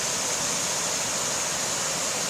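Water rushing through and around huge lodged rocks at Hakarimata waterfall, a loud constant hissing roar of falling water with no break or voices.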